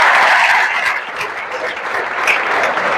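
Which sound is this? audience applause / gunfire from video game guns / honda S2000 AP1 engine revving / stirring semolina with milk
audience applause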